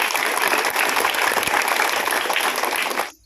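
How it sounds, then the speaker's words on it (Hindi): A crowd at a school Independence Day flag hoisting celebration applauds in a dense, loud burst of clapping for about three seconds before it stops abruptly. "सभी शिक्षक गणों के लिए वो जोरदार तालियों की"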